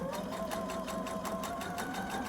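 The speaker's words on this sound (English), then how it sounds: "And so we just sew down it." A sewing machine stitches an inner leg seam on a garment, a steady, fast, even whir with a regular rhythmic clatter running continuously at close range, with no voices.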